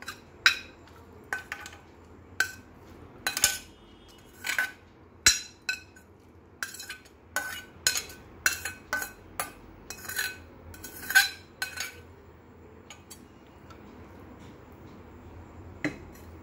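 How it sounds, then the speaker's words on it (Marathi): A metal spoon clinks and scrapes against a serving bowl and pan while cabbage masala curry is scooped out, a steady run of sharp, close taps and knocks in a quiet kitchen. "आपण आता भाजी सर्विंग बाउलमध्ये काढून घेऊ."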